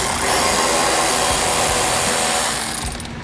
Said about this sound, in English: we're gonna put my ratchet right on it